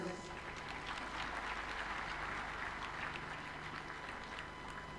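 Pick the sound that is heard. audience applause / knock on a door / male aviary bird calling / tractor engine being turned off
audience applause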